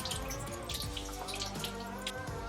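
Water droplets trickling and pattering inside a shower built into a box truck conversion, tested for leaks; a steady, close wash of small drips and splashes with no talking.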